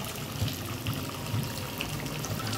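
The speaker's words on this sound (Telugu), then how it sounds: "కొద్దిగా వాటర్ వేసాను." Water poured into a pan of simmering fish curry gives a steady, close pouring wash that carries evenly from start to finish, with no talking.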